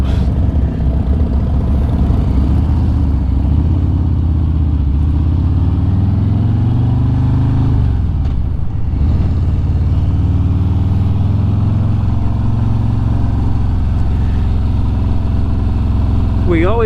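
Motorcycles on a group ride idle and rumble at a ferry crossing, a steady low engine drone running throughout with a brief dip midway, while people talk over it.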